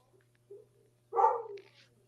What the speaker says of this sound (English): sorry for his barking